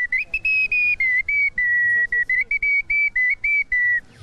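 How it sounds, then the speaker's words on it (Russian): A small two-hole clay whistle, able to play four notes, is blown in a steady series of short, bright, piercing toots. The pitch shifts slightly between notes, close and loud with brief gaps. "кто-то лепит свистульки из глины"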